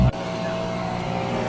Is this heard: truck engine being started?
yes